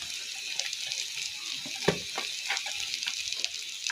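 Ginger garlic paste hitting hot oil in a frying pan while cooking chicken tehari, giving a steady soft sizzle with a brief louder burst near the middle and light stirring clatter.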